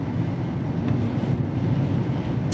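Strong gusting wind during a windstorm in Rockaway, Oregon, a loud continuous roar buffeting the microphone with no voices.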